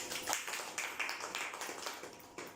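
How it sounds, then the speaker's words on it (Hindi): A small audience at a home business meeting claps gently, a soft, scattered patter of hands lasting a couple of seconds, fairly quiet. "एक बार धीरे से ताली हो जाए इस बिजनेस में"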